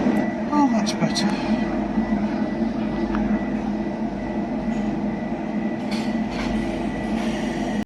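A train carrying a Saab car gives a steady low rumble and hum from the inside, with occasional clicks and knocks over the top. Voices can be heard over the noise.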